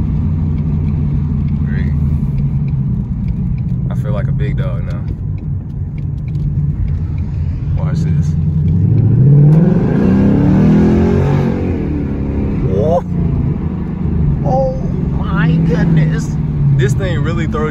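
A Ford Mustang GT's engine rumbles at a steady deep idle, then swells into a loud, rising rev as the car accelerates before settling back down, with people talking over it throughout.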